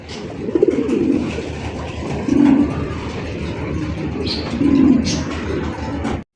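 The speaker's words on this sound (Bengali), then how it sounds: "দেখেন কত সুন্দর একজোড়া লাহোরি কবুতর পাইতেছেন" A pair of Lahori pigeons coo in low, throaty phrases, three separate bouts close by, with light rustling and brief chirps around them.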